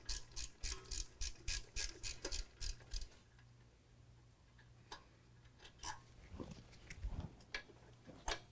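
A 13 mm ratchet clicks in quick, even bursts while loosening the rear brake line bracket on a 2018 Jeep JL 2 Door, close and crisp, then pauses before a few scattered clanks and softer clicks.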